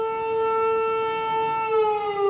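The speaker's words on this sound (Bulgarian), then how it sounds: "Точно в 12 часа сирените в цялата страна прозвучаха в знак на почет към подвига на поета-революционер Христо Ботев" Nationwide civil defense sirens in Bulgaria sound at noon in tribute to the poet-revolutionary Hristo Botev, a steady loud wail holding one tone with strong harmonics, slightly wavering near the end.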